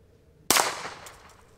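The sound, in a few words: Walther PPK/S .22 LR pistol shots, CCI Blazer ammunition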